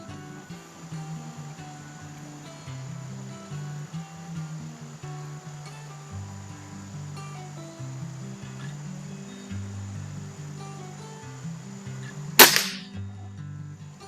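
A Weihrauch HW35E air rifle fires once near the end, a single sharp, short crack after a long quiet stretch of soft, low, steady background tones.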